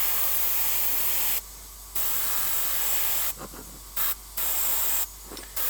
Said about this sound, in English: The airbrush is absolutely not necessary for any of this process, but it helps.